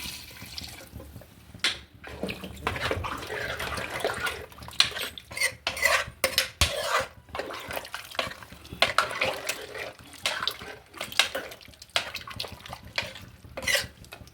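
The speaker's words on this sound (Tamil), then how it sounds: "குழம்புக்கு தேவையான அளவுக்கு தண்ணி ஊற்றிக்கலாம்" Water is poured into a village-style mutton and vegetable curry in a pot, then stirred, with repeated clinks and scrapes of a metal spoon against the pot, splashes and drips, and no talking.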